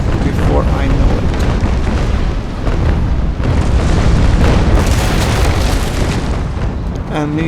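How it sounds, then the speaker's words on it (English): Cannon fire from a sailing warship in the Naval Action game, a couple of chain shots, heard as dense rumbling booms that fill the whole stretch, with a louder burst midway and no talk over it. "he fired a couple of chain shots, nothing dangerous as of yet"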